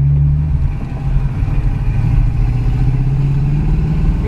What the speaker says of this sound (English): We're test driving a 1967 Ford Mustang Coupe modified.